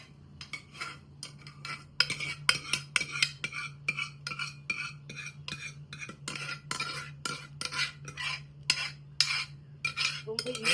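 A metal spoon scrapes and clinks against a vessel while home-style sambar is transferred, giving a close run of quick, irregular clanks and taps over a low steady hum.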